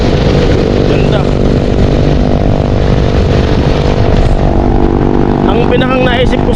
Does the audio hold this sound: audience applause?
no